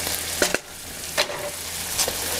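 Pasta sauce with capers and anchovies simmering in a hot pan for spaghetti alla puttanesca, giving a steady close sizzle and bubbling with a few brief clinks and stirring sounds.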